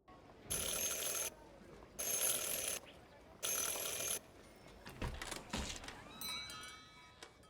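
A doorbell in Syberia: The World Before rung three times in succession, three bright sustained ringing bursts spaced evenly and heard up close, followed by softer clatter and a brief chime.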